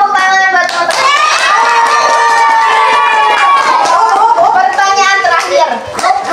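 Children clap for their classmates during a health lesson about diarrhea, the clapping mixed with loud, excited children's voices shouting and cheering close by.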